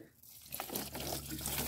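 Water pours and splashes softly onto the soil of plant cuttings in a small greenhouse, starting after a brief quiet moment and continuing as a steady trickle.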